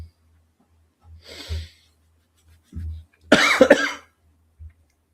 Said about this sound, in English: Yes, I'm coughing.